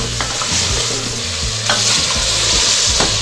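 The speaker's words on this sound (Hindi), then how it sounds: "ये गोश्त हल्का सा फ्राई हो गया" Mutton sizzles and is stirred in a karahi, with a continuous loud frying hiss and rhythmic scraping and stirring sounds throughout; no one speaks.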